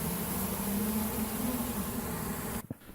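Dense, continuous buzzing of many honeybees close by at a hive's queen excluder, a steady droning hum that cuts off abruptly near the end.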